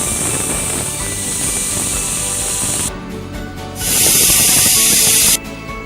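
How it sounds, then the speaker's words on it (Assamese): A pressure cooker of taro leaves vents steam in a loud, steady hissing whistle, rising to a brighter, sharper burst for about a second and a half before settling back. "এতিয়া মই 5-6টামান চিটি মাৰিবলৈ দিম।"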